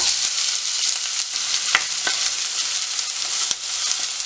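Steady sizzling of onions and green chillies tempering in hot oil, a continuous crackling hiss with a few sharper pops.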